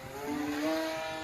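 A Kyosho Calmato D Trainer RC plane's electric motor, on a 5S battery, spins up with a rising whine, a brief near and steady throttle-up heard alone.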